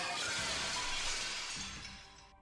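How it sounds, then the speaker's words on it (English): Something shattering in a hallway, a single bright crash of breaking glass that rings out and then trails off over about two seconds, heard alone in an otherwise quiet space. "The noise of something shattering resounded from the hallway."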